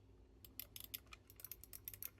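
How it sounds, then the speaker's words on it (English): The buttons on a BIGBIG WON Blitz 2 game controller are pressed repeatedly, making crisp, close, mouse-like clicks in quick irregular bursts against a quiet background. "That's literally a mouse click."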